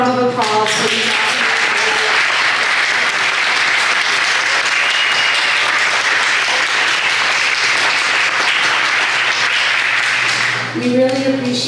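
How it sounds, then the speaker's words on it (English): Steady, loud applause from an audience at a 2025 candidate forum, sustained clapping filling about ten seconds before fading as a voice returns at the end. "let's have another round of applause for these awesome"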